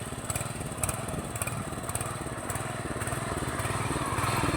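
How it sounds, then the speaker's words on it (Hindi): A tractor ploughs a flooded village field, its engine a continuous, moderately distant drone with a buzzy, rattling texture that holds steady throughout. "ट्रैक्टर के थ्रू यहाँ पे हल लगाया जा रहा है।"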